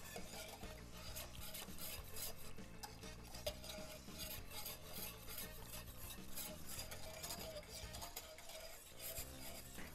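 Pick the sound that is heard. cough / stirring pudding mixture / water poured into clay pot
stirring pudding mixture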